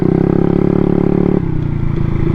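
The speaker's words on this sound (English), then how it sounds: "the engine actually sounds pretty good despite the bad tuning right now" A Honda Ruckus scooter engine runs with poor tuning, giving a loud, steady, buzzy idle that drops to a lower pitch partway through, close and continuous with no talk.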